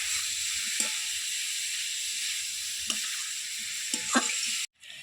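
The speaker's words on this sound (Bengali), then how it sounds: "এবার খুব ভালো করে নরম না হওয়া পর্যন্ত ভেজে নেব।" Radish and prawns frying in a pan, a steady close sizzle with a few brief stirring clicks, cutting off abruptly near the end.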